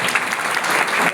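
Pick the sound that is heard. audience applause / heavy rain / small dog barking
audience applause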